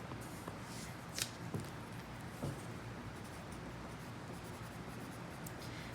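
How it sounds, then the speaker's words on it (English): Pen or pencil scratches lightly across paper in a quiet room, writing out math inequalities, soft and close with a few brief taps and strokes and no talking. "Let me write down my inequalities."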